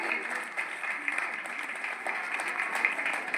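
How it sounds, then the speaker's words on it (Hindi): Applause from an audience at a school science exhibition, a steady dense wash of many hands clapping at moderate level throughout, with no pause. "जोरदार तालियों से प्रभात सर का स्वागत कीजिए।"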